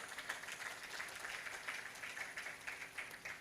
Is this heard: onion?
no